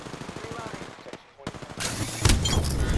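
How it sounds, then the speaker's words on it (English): Automatic gunfire in the battle-royale video game Apex Legends, a rapid loud burst of shots that drops off briefly and then returns as a denser, heavier barrage with explosive impacts. "Opening fire on the enemy."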